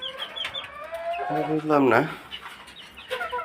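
A hen on a small home poultry setup gives a short burst of clucking in the middle of the moment, with a person speaking briefly nearby.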